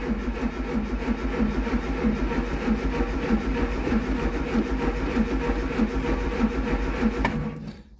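A Triumph Spitfire's starter motor cranks the engine in a steady, loud, continuous churn for about seven seconds, then cuts off abruptly.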